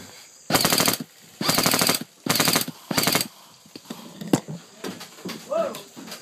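Airsoft guns rattle off four rapid full-auto bursts during an outdoor airsoft war between green and tan teams, loud and close. Scattered single shots and faint voices follow.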